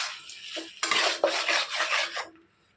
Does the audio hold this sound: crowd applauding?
no